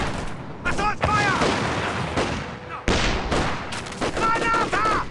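Company of Heroes 2 battle gunfire rattles in dense, continuous bursts with booming shots, while game unit voices shout over the top throughout.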